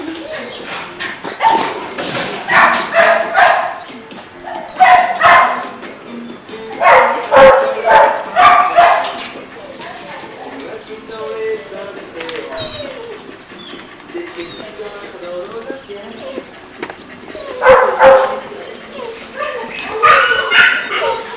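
Several boarded dogs at a kennel bark and yip in loud bursts, with whimpers in between. Someone talks over the noise in places.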